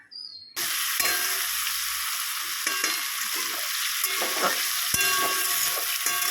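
Cut okra fries in a pan, a steady close sizzle that runs throughout after a sudden start. Occasional clinks and scrapes of stirring sound over it, and no one speaks.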